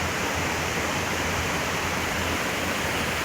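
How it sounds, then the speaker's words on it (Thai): Strong, steady rush of water flowing through a channel at Thammasat, a dense broadband roar that stays loud and unbroken throughout with no voices. "น้ำไหลตลอดแรงตลอดปีเลย"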